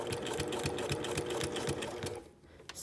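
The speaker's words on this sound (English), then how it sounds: "that's exactly where we want to end and do our back stitch" A sewing machine runs back stitches along the seam of a casual shirt collar, a quick regular needle clatter that carries on for about two seconds and then stops, leaving brief quiet.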